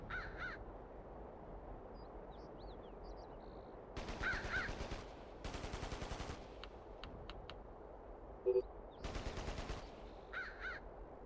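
Short bursts of automatic gunfire in the PS2 video game Ghost Recon on the Gold Mountain mission, several separate volleys spaced apart over a steady outdoor ambience with cawing crows.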